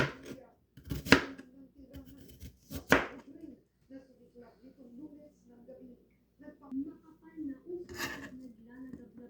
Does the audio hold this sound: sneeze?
no